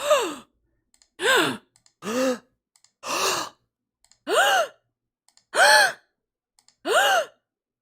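A series of eight sharp gasping breaths, evenly spaced with short silences between, each a quick rising intake of air, close and clear.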